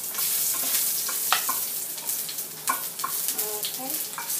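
Garlic frying on a hot pan for a vegetable samosa filling gives a steady close sizzle, with a few clinks and stirring scrapes scattered through it.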